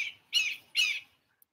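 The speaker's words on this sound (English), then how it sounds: "did you hear that hawk?" A hawk calls twice in the Joshua Tree desert, two harsh, clear screeches close together, then quiet with no talking.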